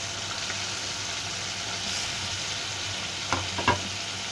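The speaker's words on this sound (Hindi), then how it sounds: "सारे पीस हमने तलने के लिए डाल दिए हैं।" Pomfret fish pieces frying in hot oil for a fish curry, a steady hissing sizzle with a couple of brief utensil clicks near the end.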